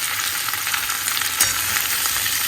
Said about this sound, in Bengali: এগুলো একটু ভালো করে ভাজা হোক, ভালো করে ভাজা হতে হবে, নরম হয়ে যাবে শিমগুলো